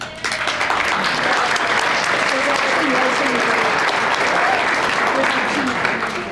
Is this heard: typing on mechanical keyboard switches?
no